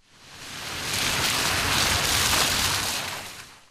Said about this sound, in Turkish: Günlerdir devam eden sağanak yağış bugün de kent genelinde etkisini sürdürüyor.